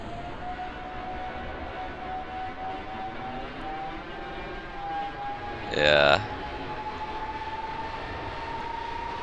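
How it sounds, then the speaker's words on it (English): Aircraft engine exhaust in the Kerbal Space Program video game gives a steady droning whine with a sweeping tone and a brief louder burst partway through, with a single short spoken word. "So those are new sounds, new heat effects for the exhaust of the engines."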